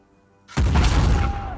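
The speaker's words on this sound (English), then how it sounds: "Boom! Right next to the propane tank." A propane tank explodes in the video game Uncharted 4, a sudden loud boom after near silence that rolls into a sustained, heavy rumbling blast with debris-like crackle, no voices.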